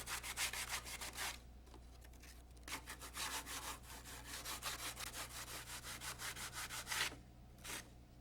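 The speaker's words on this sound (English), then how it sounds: "Fit the fiberglass winglet halves by trimming and sanding." Rhythmic back-and-forth sanding strokes rasp against fiberglass winglet halves for a Rotorway helicopter, close up, in bursts separated by brief pauses over a low steady hum.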